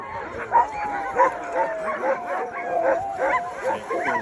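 Iditarod race sled dogs bark and yip in a rapid, uneven series of close, loud calls, several dogs overlapping without pause.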